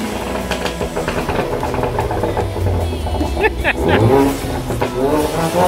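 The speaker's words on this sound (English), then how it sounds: "Rev it. Go for it. Go for it. Keep going. Keep going." A Ford Mustang engine revs loudly and close by, building through repeated throttle blips that peak near the end, while people talk over it.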